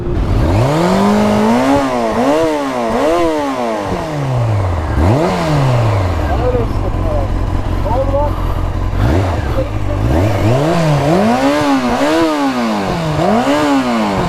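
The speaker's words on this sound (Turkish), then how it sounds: "Egzoz port port patlatıyor." Overheated motorcycle engine revving repeatedly, rising and falling whines close by with sputtering exhaust pops between revs; rider talks over the engine at times.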